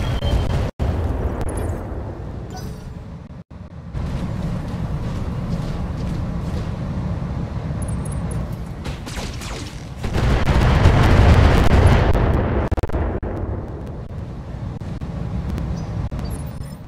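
Mech weapons fire and explosions in the BattleTech game, loud booming blasts and rumbling impacts rolling across the scene, with a sharp crack early on and a heavier surge of explosions near the end.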